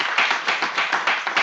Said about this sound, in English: I will give you a round of applause to our chairman